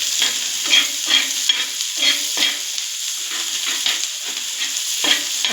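Egg bhurji frying in a pan while a spatula stirs it, giving a steady oily sizzle broken by regular scraping strokes against the pan about twice a second, close and clear.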